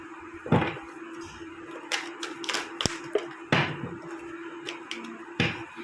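Tarot cards shuffled by hand, a series of close, sharp riffling snaps and taps in irregular bursts over a quiet background, with no talk.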